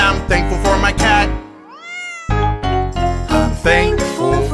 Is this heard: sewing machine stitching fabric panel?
no